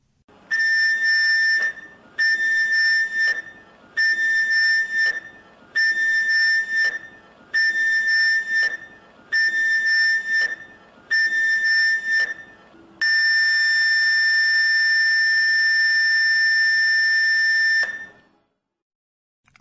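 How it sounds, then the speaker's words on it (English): A ship's general alarm, a loud, piercing whistle, sounds seven short blasts in an even rhythm, then one long sustained blast before cutting to silence. "the IMO standard general alarm signal is 7 short blasts, followed by 1 long blast on the ship's whistle or siren"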